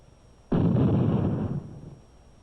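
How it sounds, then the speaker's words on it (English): A plastic explosive letter bomb, remotely detonated, bursts out with a sudden, heavy explosion and a deep boom that holds for about a second, then fades into a low rumbling tail. "For safety, the explosive will be remotely detonated."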